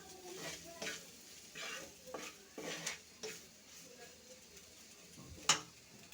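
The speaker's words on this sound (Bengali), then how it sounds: "এখন দিয়ে দিচ্ছি। একটু তেলের সাথে মিশিয়ে একটু ভেজে নেব।" Ground coriander, turmeric and chili powder fry in a little oil for a Bengali rui fish curry, a soft sizzle under intermittent spoon scrapes and stirring clinks against the pot, with one sharper clink near the end.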